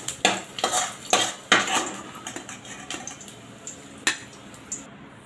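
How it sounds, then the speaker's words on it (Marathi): Onion frying in a pan is stirred with a metal utensil, giving repeated sharp scraping and clinking strokes over a faint sizzle, loud and close with no voice. "अशा प्रकारे आपल्याला छान गोल्डन कलर येईपर्यंत कांदा भाजून घ्यायचा आहे"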